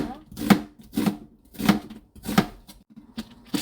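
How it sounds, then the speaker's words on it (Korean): A knife slices a halved onion into thin strips on a cutting board, with about six evenly spaced, close and fairly loud thuds in a steady rhythm. "양파는 양쪽으로 잘라버리고 채를 썰어줍니다."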